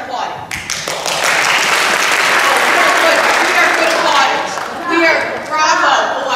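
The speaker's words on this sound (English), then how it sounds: "Let's practice our applauding." Children at a church children's moment clap together in a loud burst that swells and holds, with a few excited voices and an adult speaking over the sustained clapping near the end.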